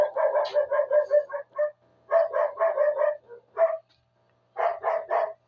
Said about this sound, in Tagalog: Ayan, tahol ng tahol.